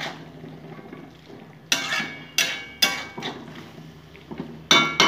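Utensil stirring a cabbage and potato curry in a pan, a run of sharp metallic scrapes and knocks at irregular intervals over a low simmering background, close and without talk.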